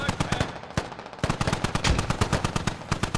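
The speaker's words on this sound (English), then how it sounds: "There's a Dishka just inside this wall. Yeah, I know. You hear it?" A DShK heavy machine gun fires sustained rapid bursts in the video game Operation: Shockwave, loud and close, with a short pause before the fire resumes.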